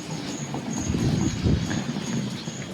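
Aboard the Sethu Express passenger train between Manamadurai and Chennai, a steady low rumble of the train in motion fills the scene, with faint rhythmic rattling and a thin high whine above it, continuous and moderately loud.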